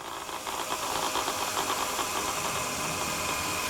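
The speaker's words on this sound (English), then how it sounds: "we can easily clean that up with the belt sander" A belt sander grinds down the end of a steel piece for a welded boot scraper, a loud, continuous abrasive roar and hiss held steady at close range with no talking.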